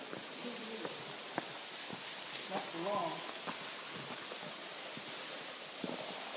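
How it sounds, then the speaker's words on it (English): Laurel Falls waterfall on the Virgin Falls hike near Sparta, Tennessee, heard from beneath a limestone overhang: a faint, steady rushing hiss of falling water with scattered soft knocks and murmuring voices. "here at Laurel Falls, where the water's coming down"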